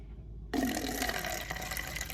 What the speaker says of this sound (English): Now I'm pouring water in it.